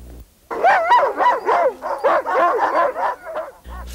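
Sled dogs bark and yip excitedly before a run, a dense, rapid burst of overlapping close barks that continues steadily for several seconds.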